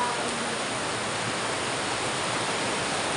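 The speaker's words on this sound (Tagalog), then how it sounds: "malakas yung agos ng tubig" Strong river current flowing near a bridge, a steady dense rush of water noise without pause, close and constant throughout.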